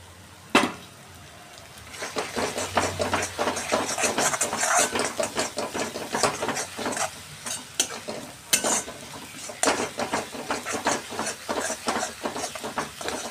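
Water poured into frying masala for misal sets off a loud, continuous sizzle, with constant scraping and stirring in the pan throughout and a sharp knock near the start.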